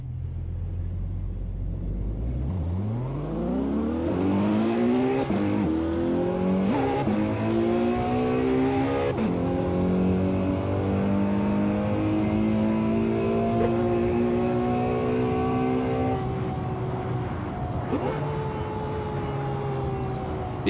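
In the racing game Assetto Corsa, a Ferrari 812 Superfast's V12 climbs steadily through the revs, its exhaust note rising in pitch with crisp gear changes in a long continuous pull, loud and alone.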